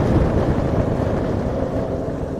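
Engine rumble and rushing wind fill a superbike ride alongside other superbikes on a Sunday group outing, a loud, even, broadband roar with no clear tones and no one speaking.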